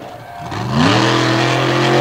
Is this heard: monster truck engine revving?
yes